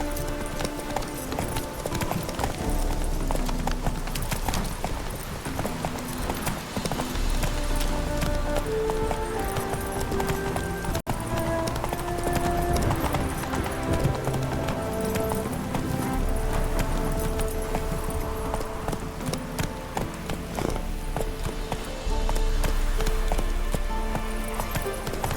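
Roach the horse gallops in The Witcher 3: Wild Hunt, a steady rapid clip-clop of hooves running continuously over a dense backdrop of game music and ambience.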